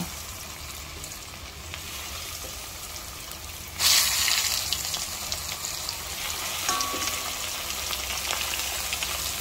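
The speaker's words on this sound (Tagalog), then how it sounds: "Yan, mainit na yung matika natin, Fry na tayo." Chicken pieces seasoned with garlic and onion powder frying in hot oil for lunch, a steady sizzle that jumps sharply louder partway through as more goes into the pan, then keeps crackling close and continuous.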